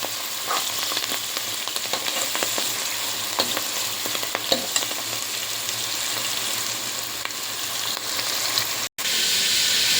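Onions frying for prawn pulao give a steady, dense sizzle that runs the whole time, broken by faint stirring clicks and a brief dropout near the end, with no talking.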